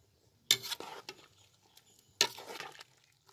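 Two sharp bursts of a utensil stirring and scraping in a pot of bamboo shoot curry with fermented fish, each followed by brief bubbling clatter, quiet and close with pauses between.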